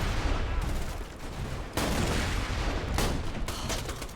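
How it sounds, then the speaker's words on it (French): Grenade blasts and gunfire in the video game Borderlands 2, a loud, dense barrage of bursts and booms packed together with little pause. "C'est des grenades."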